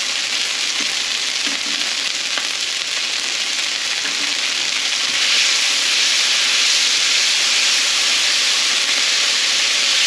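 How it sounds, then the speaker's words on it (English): Soybean and rice noodles sauté in a pan with sauce, giving off a steady, loud sizzle and hiss that carries on without a break, with faint stirring and scraping underneath. "sprinkle in the sauce and then move your noodle around so that way it can get colors"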